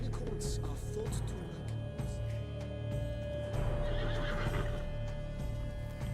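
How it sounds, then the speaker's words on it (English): A horse neighs and whinnies in The Witcher 3: Wild Hunt, Blood & Wine, with hoof clip-clops and a busy game background around it, loud and continuous throughout. "Bro, that's a damn horse."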